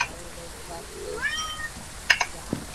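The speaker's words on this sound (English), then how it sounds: "I hear cat." A cat meows a few times in the background while someone talks over it during a Phasmophobia ghost-hunting game session.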